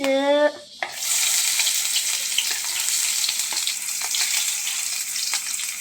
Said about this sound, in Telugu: పెనం పెట్టి ఇప్పుడు మనము ఆయిల్ వేసుకొని ఆనియన్స్,